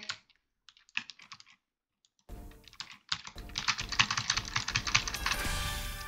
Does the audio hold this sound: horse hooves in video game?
no